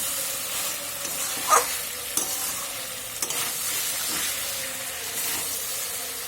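Vegetables for shukto sauté in a pan with a steady frying sizzle, broken by a few brief stirring scrapes and knocks, close and moderately loud with no voices.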